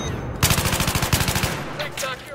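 Rapid automatic gunfire from a Battlefield 3 match, with the F2000 rifle, bursts in quick rhythmic rattles, loud and close, followed by scattered distant shots as a player talks.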